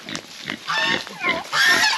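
Pigs grunt and oink repeatedly at close range on a Philippine farm where chicks wander among them, the calls rising and falling in uneven bursts with a faint background hiss.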